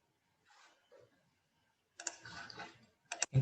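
Mouse clicks while working in the Microsoft Azure machine learning interface: faint soft taps at first, then a louder cluster of sharp clicks followed by two crisp, distinct clicks at the end.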